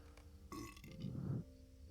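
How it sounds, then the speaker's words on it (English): A hobbit character in the video game LOTRO lets out a single loud, rumbling burp lasting about a second, close and clear over a quiet game background. "Oh, we're burping."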